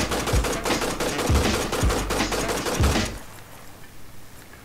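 Animated PUBG gunfire from a bigger gun: four heavy booming shots at roughly one-second intervals over a dense, loud burst of action noise, which cuts off abruptly into quiet room tone.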